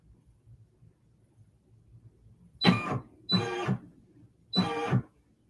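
An embroidery machine stitching a mug rug runs in three short buzzing bursts separated by brief pauses, close and clear over a quiet room.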